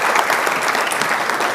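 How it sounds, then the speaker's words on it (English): Dense audience applause fills the room in welcome for Tunisia's head of government Mehdi Jomaa, a steady close wash of clapping from a large crowd with no pauses and no voices above it. "Would you all please, with your applause, welcome Prime Minister Joma."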